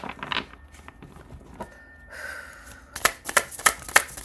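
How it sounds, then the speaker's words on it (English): A deck of tarot cards is shuffled and straightened by hand, with scattered soft riffles and taps early on and a denser burst of sharp flicking riffles toward the end, close and alone. "Let me straighten out this deck."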